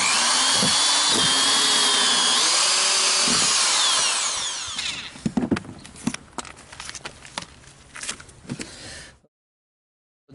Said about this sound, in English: These are the 4 spots that we are going to drill.